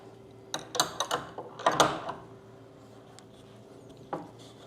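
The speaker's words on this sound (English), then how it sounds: "Now we take our adjustable wrenches, and at the same time, we're turning both of these" Metal wrenches clank and ratchet while tightening nuts on a wooden mobile chicken coop frame rail: a cluster of sharp clicks and scrapes, a louder burst near the middle, then quiet with one last click.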